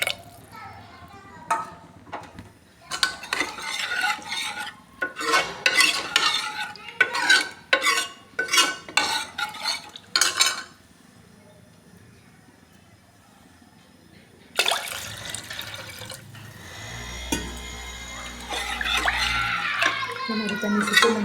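Tamarind water mixed with salt and chili powder is stirred in a pot for cluster bean sambar, with repeated swishing and clinking bursts that alternate with a person talking nearby.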